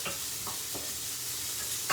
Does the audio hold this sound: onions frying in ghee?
yes